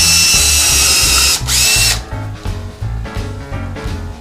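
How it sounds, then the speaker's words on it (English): A Makita 18-volt cordless drill with a countersink bit bores holes in wood for a table, its loud motor whine running steadily, then breaking into several short bursts as the bit cuts down. "I'm going to go ahead and make my countersink holes right here"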